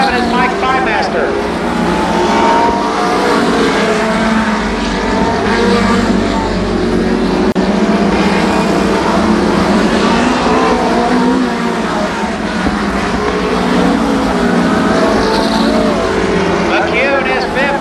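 All American Midget race cars roar around Columbus Motor Speedway in 1993, a loud, continuous engine drone with shifting revs as the pack circles, while an announcer talks over the din throughout.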